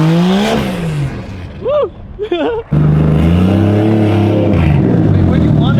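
A car engine revs loud and close as the driver engages first gear, a steady throaty roar building after a short gap, with a brief excited shout just before it.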